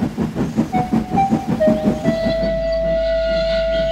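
A steam train rolls along the line with steady rhythmic chuffing and wheel clatter, then a long whistle sounds and holds as the puffing fades into a low rumble.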